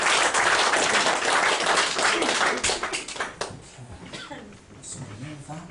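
A live comedy audience gives a volunteer a round of applause, with dense clapping that thins out and fades toward the end while a voice talks over it.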